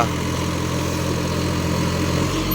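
A Massey Ferguson 254 DynaSmart 4wd tractor stuck in deep mud, its engine running at a steady, constant drone throughout, close and moderately loud with no other distinct sounds.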